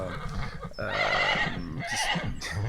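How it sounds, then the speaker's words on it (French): An agitated horse gives a loud, drawn-out neigh close by, followed by snorts and shorter whinnying bursts toward the end. "c'est le cheval qui s'énerve, c'est pas grave"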